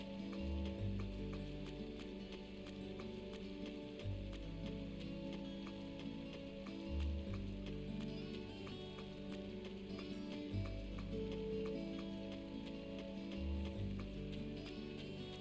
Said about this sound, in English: this downpour has come out of nowhere, now I'm completely soaked